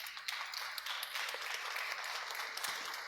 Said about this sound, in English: I would like audience to applaud those brave ladies and gentlemen here now.